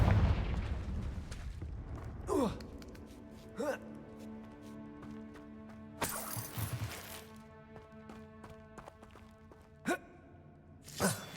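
Fire-spell blasts from the Confringo charm in Hogwarts Legacy, several sharp broadband bursts spread across the stretch with ringing tonal tails, loud and near over a steady game-music bed.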